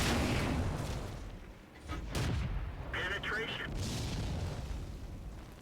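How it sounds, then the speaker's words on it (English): Tank cannon fire from a T-34 and Panzer IV in the World of Tanks game, with heavy booming shots and rumbling battle noise throughout, partly under a person talking. "Meanwhile there's a T-34 taking shots at us."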